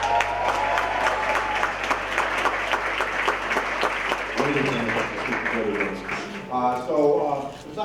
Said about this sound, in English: give him a round of applause and really thank him for all of your service